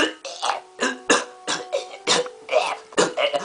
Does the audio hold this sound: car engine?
no